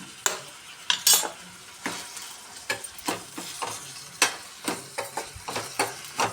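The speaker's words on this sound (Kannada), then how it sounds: "ಈರುಳ್ಳಿ ಟೊಮೆಟೊ ಎಲ್ಲ ಎಣ್ಣೆ ಒಳಗನೆ ಸ್ವಲ್ಪ ಮೆತ್ತಗಾಗುತ್ತೆ ಅದು ಫ್ರೈ ಆಗಬೇಕು" Onion and tomato fry in oil in a pan, a soft continuous sizzle broken by regular sharp scrapes and taps of a spatula stirring, close and unhurried.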